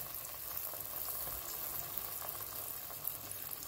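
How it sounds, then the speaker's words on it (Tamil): Adhirasam sweets frying in oil in a pan on the stove, a continuous soft hiss and bubbling sizzle with small pops, close and steady throughout, with no talk. "இந்த மாதிரி லைட்டாக எண்ணெய் மேலே விட்டுக்கலாங்க"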